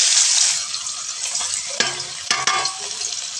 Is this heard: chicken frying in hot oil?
yes